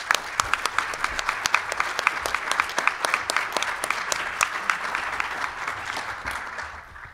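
An audience applauds to welcome speaker Michael Kazin at a talk on American workers, with steady, dense clapping from a sizeable crowd for several seconds that tapers off at the end.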